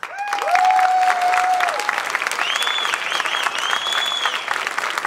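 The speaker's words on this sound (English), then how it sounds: "Audience, do not hold your applause until the end." Audience applause at a 2019 high school spring concert, a steady full wash of clapping that carries through, with tonal whistles or cheers rising over it partway.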